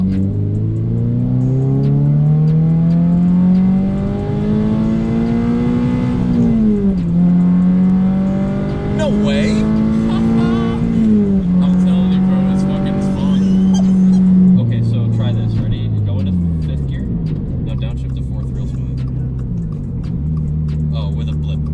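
A modified 2022 Subaru BRZ engine pulls hard in second gear, its note climbing steadily, easing briefly, then rising again before a shift drops the pitch, loud and close from inside the cabin with occasional speech mixed in.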